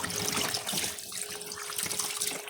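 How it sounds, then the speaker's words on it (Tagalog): Java olive (kalumpang) seeds being washed in water, a steady close splashing and trickling that runs continuously without any talk. "gahugas ko kalumpang, kay human naman ko upalot"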